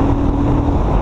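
A Hyosung 250cc motorbike engine drones loudly and steadily up close in a brief burst, with a dense low rumble under a sustained tonal hum.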